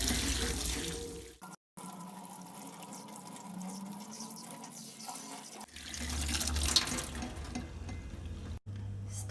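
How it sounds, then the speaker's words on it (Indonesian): Hands rinsed under a steady stream of running tap water at a sink, a continuous close splashing that briefly cuts out twice, with no talking. "Setelah itu bilas di air mengalir"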